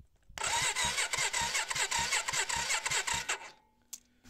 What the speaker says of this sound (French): je vais venir faire tourner le démarreur